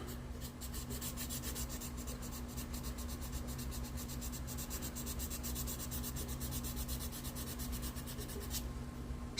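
Steady continuous rubbing and rasping from wet sanding a rusty Chevy scale model body over its decal, a close, even scrubbing stroke repeated throughout with no talk.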